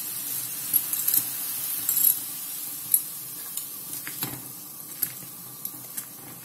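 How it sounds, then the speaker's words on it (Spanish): A pot of boiling water in a home kitchen as spaghetti is dropped in: a steady bubbling hiss broken by a few soft knocks and rustles, close by, with no talking. "Ahora que tenemos el agua hirviendo, vamos a echar los espaguetis o tallarines."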